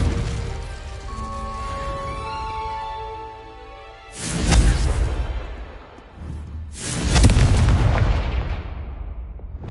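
Two loud, booming blasts from the Confringo fire spell in the Hogwarts Legacy video game, each a heavy explosive burst with a rushing tail, following a quieter stretch of tonal game music and ambience.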